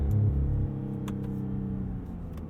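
A 2020 Cadillac CT5-V engine revs through a gear shift, a loud low rumble that drops after the first half second and then settles into a steady hum, with faint clicks and no talking.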